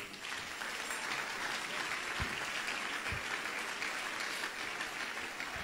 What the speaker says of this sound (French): Vous pouvez applaudissez bon Dieu dans celle-là